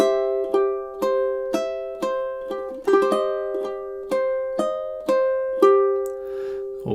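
Ukulele playing two measures of a chord progression, with ringing strums and quicker picked notes in a steady rhythm, each chord sustaining briefly, close and unaccompanied.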